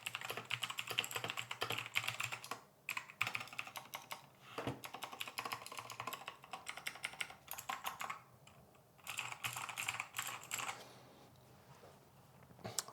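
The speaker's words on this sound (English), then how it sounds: "So jumping right into the keyboard, quick sound test." A cheap budget mechanical keyboard with green cable and teal keys is typed on steadily, rapid close clacks with a slightly hollow tone, brief pauses between bursts, no talking.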